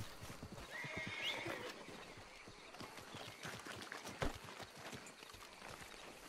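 A horse in Red Dead Redemption 2 whinnies and snorts while its hooves clip-clop at a run, near and fairly loud, with a sharp thump partway through and no speech.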